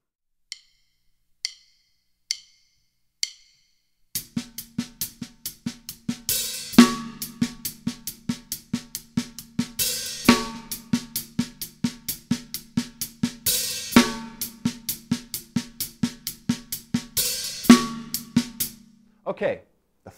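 A drum kit plays a ghost-note groove: a few sparse hi-hat counts, then a steady flowing pattern of crisp hi-hat ticks with soft ghosted snare taps and louder snare backbeats, close and alone.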